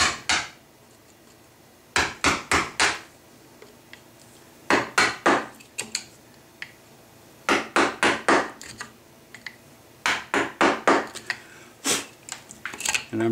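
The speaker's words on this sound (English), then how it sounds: "I'm just using a half inch chisel. If you have a wider one, that works fine too, and I'm using a wood carver's mallet" A half-inch chisel driven by a wood carver's mallet cuts into wood, giving sharp, close knocks in quick bursts of four to six strikes separated by short pauses.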